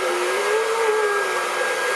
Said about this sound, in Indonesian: Kayaknya lepas dikeramas tuh harus pakai hair dryer, nggak boleh dibiarkan si rambut itu basah.